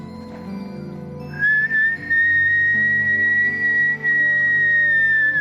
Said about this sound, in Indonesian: Nih, lihat ya, aku bersiul lagi.